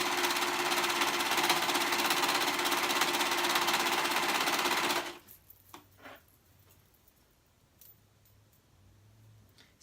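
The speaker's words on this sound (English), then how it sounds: "I'm serging all the way around, making sure all those" A serger overlocks the edges of fabric in a steady, loud, rapid mechanical chatter for about five seconds, then stops, leaving faint clicks and quiet handling sounds.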